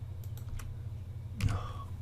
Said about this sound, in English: Wireless keyboards. Who invented wireless keyboards? Garbage.